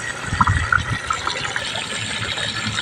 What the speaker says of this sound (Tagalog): papakita ko naman po kung paanong pagsasalin sa drum nung nasa plastic